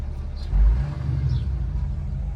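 V8 car engine in sport mode revving up with a deep, loud surge of low rumble, then holding a steady throaty idle, heard close with no talking.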